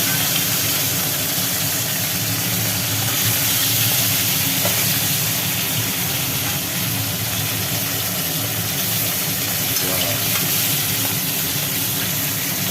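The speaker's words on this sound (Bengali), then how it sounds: "নুন হলুদ মাখিয়ে রাখা মাছগুলো এবার ভেজে নেওয়া হবে" A constant hissing sizzle of turmeric-and-salt-coated fish frying in hot oil, even and unbroken for the whole stretch.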